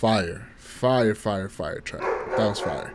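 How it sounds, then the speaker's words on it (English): A pet dog barks several times in the background of a room while someone talks loudly over it near the microphone. "Sorry for my dog barking in the back."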